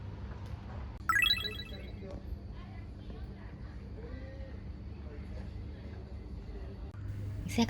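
A phone rings briefly as a call goes out to an izakaya in Aizu-Wakamatsu: a single short, bright electronic ring, then low background noise and soft voices.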